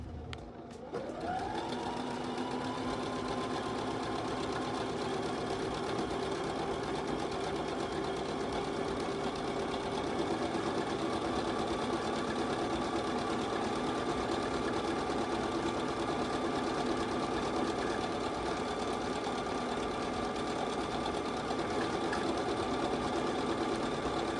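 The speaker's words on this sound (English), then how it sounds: "Select the stitch. I'm using stitch number 30 and start sewing." A Brother CS5055 PRW computerized sewing machine stitching a buttonhole, running in one steady, continuous motor whir with a rapid needle rhythm, close and constant for the whole stretch, with no talking.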